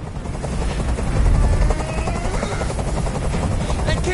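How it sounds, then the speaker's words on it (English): A helicopter in the video game Detroit: Become Human roars close and loud with a steady, rapid rotor chop and engine drone that never lets up. "I can't stand that noise anymore. Tell that helicopter to get out of here."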